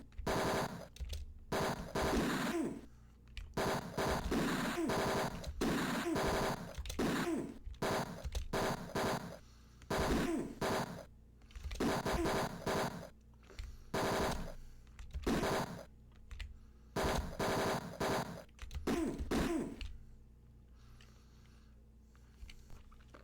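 Repeated bursts of rapid gunfire from the video game Tex Murphy: Mean Streets, loud and close, in choppy volleys separated by brief silences before fading to a quiet tail.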